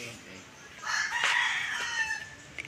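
A rooster crows loudly in a backyard among chickens, one drawn-out call rising and holding for over a second over low outdoor background.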